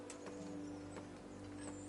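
Horse hooves clip-clopping in the medieval video game Kingdom Come: Deliverance, a few soft irregular hoof taps over a low steady game ambience and hum, quiet and without speech.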